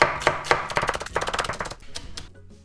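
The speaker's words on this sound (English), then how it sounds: "we're gonna cut up the scallion" A knife chopping scallion thinly on a cutting board, rapid close taps in a quick even rhythm that slows and fades near the end.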